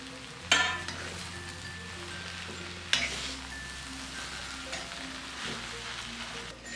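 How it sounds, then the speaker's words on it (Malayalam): Vegetable samosa filling with coriander leaves sizzling in a pan on a gas stove, a steady soft frying hiss broken by two sharp clinks of a spoon stirring against the pan. "ഇനി ഇതിലേക്ക് ഈ മല്ലിയില കൂടി വിതറി ഇതൊന്നും കൂടി ഒന്ന് ഇളക്കിയ ശേഷം ഗ്യാസ് ഓഫ് ചെയ്ത് കൊടുക്കാം."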